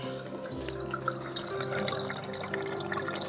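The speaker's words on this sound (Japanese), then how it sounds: "で、そこのへりを越えると滝が流れ始めるというわけですね。" Water trickles and splashes steadily in an aquaterrarium waterfall with a pump running, a soft continuous flow with small drips and a low hum beneath, no talk.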